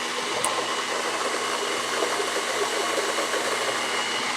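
Vitamix blender running steadily while blending a thick no-bake cookie paste, a continuous close, loud motor whir with no pauses or talk.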